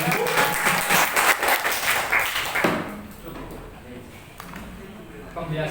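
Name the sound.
audience applause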